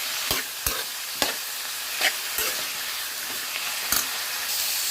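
Coriander sautéing in a hot pan for an Afghani egg dish, a steady close frying sizzle broken by several sharp scrapes and clicks of stirring, with no voices.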